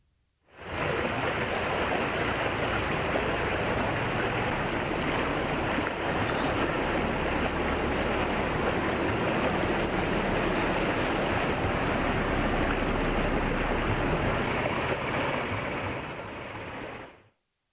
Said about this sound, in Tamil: திருவண்ணாமலை சேரியந்தல் ஏரி நிரம்பி சாலையில் பெருக்கெடுத்து ஓடும் வெள்ள நீரால் வாகன ஓட்டிகள் கடும் அவதியடைந்து வருகின்றனர்